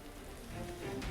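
Incessant rain with chilly wind at a muddy levee camp, a dense, steady hiss of falling water filling the brief moment without gaps or voices.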